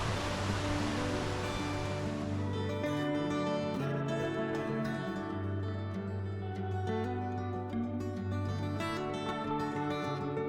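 Steady, full roar of a waterfall at Ko Chang, Thailand, a continuous broadband rush heard close and loud throughout, with no voices.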